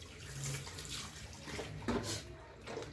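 Water from a tap runs in a thin, weak stream while someone washes, with soft splashing and sloshing at close range and occasional louder splashes.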